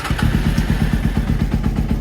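A Honda CBR600 F3 motorcycle engine runs rough and misfires, a loud, close, uneven low thumping idle with stumbling pulses and mechanical clatter throughout.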